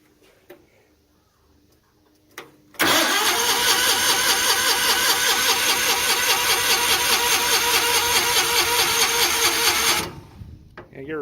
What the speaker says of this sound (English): This is the Miller. We've had it running. It might even run today.